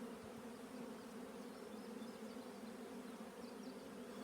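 A continuous, even hum of many honey bees swarming over the frames of an opened hive, close by and unbroken for the whole stretch.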